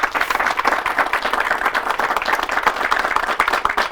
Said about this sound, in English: So let's give all our speakers one more round of applause.